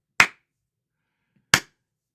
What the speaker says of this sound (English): One person clapping.